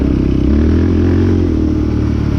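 Steady, loud engine drone of a Yamaha Raptor 700R sport quad while riding out in the desert heading toward the mountains, holding a constant pitch with a low rumble and faint clatter throughout.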